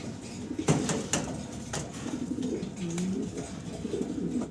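Fancy pigeons coo in low, rolling throbs, close and clear, with a few sharp knocks and rustles early on over a steady background noise.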